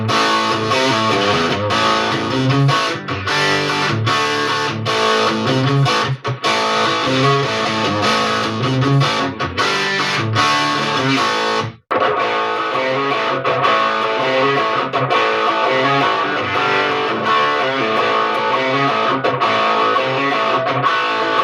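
Electric guitar played through a Joyo Bantamp Jackman II amp on its drive channel at full gain, heavily distorted chords and riffs ringing continuously with one brief cut partway through, loud and without speech.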